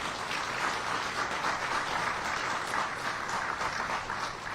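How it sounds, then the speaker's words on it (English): Sustained applause from an audience at a Chicago Recovery Plan press conference, many hands clapping steadily and evenly at moderate distance for the whole stretch, with no voices over it. "I want to give a round of applause to the commissioner and his team"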